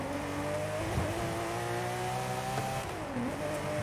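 A car engine in Forza Horizon 5 revs hard in first gear, a steady loud whine with pitch rising and dipping as the revs shift, running continuously without talk.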